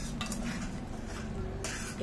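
Mushrooms fry in a pan while a spatula stirs them, giving soft scraping and clinking of utensil on metal over a low sizzle, fairly quiet and close.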